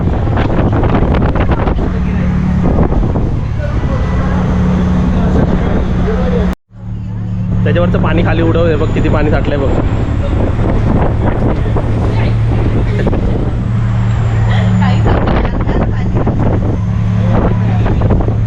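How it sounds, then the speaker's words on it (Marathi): Strong wind buffets the microphone on an open ferry deck, a heavy, roaring rumble that runs almost continuously with one brief dropout, while people talk over it and the ship's engine hums beneath. "हवेनेच माणसं उठून जातील इकडे आहे ना"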